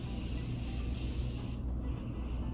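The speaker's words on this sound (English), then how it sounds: "This is Morphe setting spray, my favorite setting spray of like life." A Morphe makeup setting spray is misted onto a face, giving a steady, close, airy hiss that lasts about a second and a half and then cuts off, leaving low room noise.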